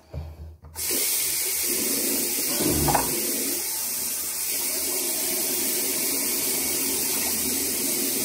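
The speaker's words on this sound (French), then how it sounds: "je lave mes dents. Un peu avec de l'eau tiède" A bathroom tap runs lukewarm water for rinsing while brushing teeth, a steady hissing stream that starts abruptly after a brief quiet moment and continues evenly throughout.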